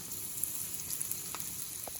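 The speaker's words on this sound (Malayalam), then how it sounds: "കടലപ്പരിപ്പ്, ഉഴുന്നുപരിപ്പ്, അതുപോലെ വെളുത്തുള്ളി വറ്റൽമുളകും കൂടി ഇതിനകത്തേക്ക് ഇട്ട് കൊടുക്കാം." Chana dal, urad dal, garlic and dried red chillies fry in hot oil for a raw mango and carrot pickle, giving a quiet, steady sizzle with a few small pops and crackles and no speech.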